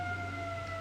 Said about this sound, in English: you might hear a siren in the background.